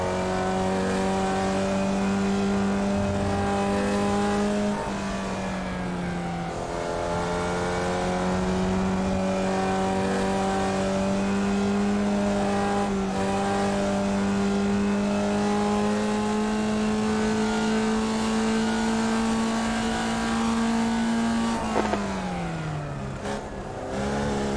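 A sim racing game car's engine drones at high revs for a long stretch, the pitch climbing and holding through gear changes, then dropping sharply near the end, steady and loud with no talk.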